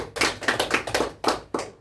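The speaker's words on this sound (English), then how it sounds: "Please give her a round of applause as she's now going to her grave" A short burst of hand clapping from a small group at a game session, several overlapping claps in an uneven rhythm that rise and fade in quick pulses, close and moderately loud with no talking.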